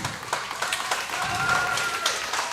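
Crowd applause at a ProSouth Wrestling Bloodsport event, a broad wash of clapping rising and holding steady across the arena, mid-distance and fairly loud, with an announcer's voice and crowd noise mixed in.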